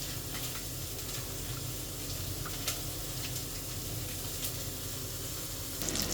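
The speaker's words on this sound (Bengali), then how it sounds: "এখন মাছগুলো ভাজা হয়ে গেছে, আমি উল্টিয়ে দিয়েছি এপিট করে।" Small puti fish fry in a pan, a soft continuous sizzle held at moderate level, with a few faint utensil ticks and a slight rise in noise near the end; nobody speaks.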